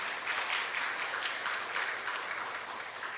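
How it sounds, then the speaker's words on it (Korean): Applause from a church congregation welcoming first-time visitors during a Sunday service, a steady dense wash of many hands clapping at moderate distance, fairly soft and sustained without talk. "우리 박수로 환영하도록 하겠습니다."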